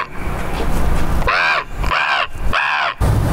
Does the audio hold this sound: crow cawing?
yes